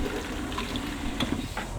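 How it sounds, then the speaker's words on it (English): Regular tap water pours into a bucket with a steady close splashing rush and a few brighter droplet splashes. "fill up this bucket with just regular old water"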